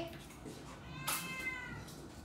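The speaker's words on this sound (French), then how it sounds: "Mon chat, il arrête pas de miauler." A cat gives a single clear meow, close by, over a quiet room with faint voices in the background.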